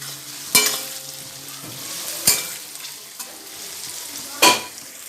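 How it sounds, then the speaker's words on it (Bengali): Papaya pieces frying in hot oil with softened onion, tomato, turmeric and salt for a mutton curry, a steady close sizzle broken by three sharp spatula scrapes against the pan. "এবার পেঁপেটা একটু ভেজে নিই"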